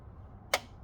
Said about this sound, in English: That's the sound of a torque wrench, John.